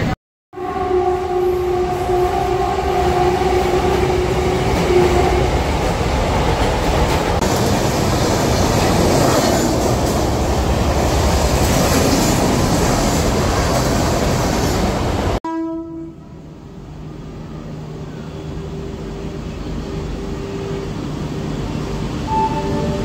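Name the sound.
train running from Jalgaon to Bhusawal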